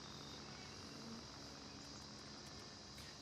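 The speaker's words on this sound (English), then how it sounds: "I hear a helicopter coming in." A helicopter approaches in the Gray Zone Warfare shooter game, a steady droning rotor and engine hum with a buzzing tone, fairly faint and constant under quiet game ambience.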